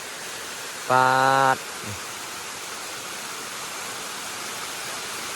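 A large mountain waterfall roars as a constant broad, even wash of rushing water, with one short spoken word breaking in near the start.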